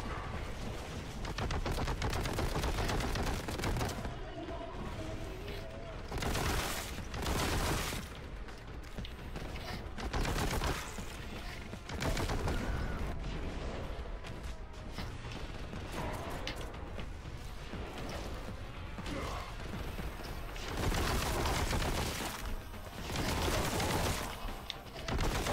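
Sustained heavy bolter fire in Warhammer 40,000: Boltgun, loud continuous automatic bursts with brief gaps, dense and close throughout with mechanical clatter in the mix.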